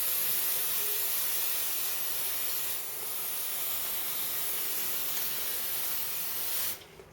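Aerosol brake cleaner sprayed at a workbench during a fishing reel restoration, a steady close hiss lasting about seven seconds before abruptly stopping.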